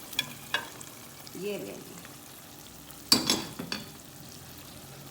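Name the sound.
chicken koftas added to frying spiced masala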